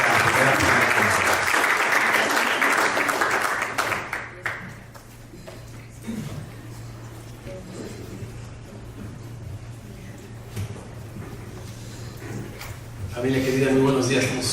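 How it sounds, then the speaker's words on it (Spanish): A crowd claps loudly for a welcome at an event, dense applause that fades away after about four seconds, leaving a quieter stretch with a low hum and scattered sounds before a brief loud burst near the end. "les damos un aplauso y una cordial bienvenida a Gavita y a Torcito"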